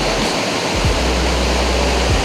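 Strong, rushing current of water at Pinlac Falls, a steady broadband roar that stays loud and unbroken throughout, with a few low thumps beneath it.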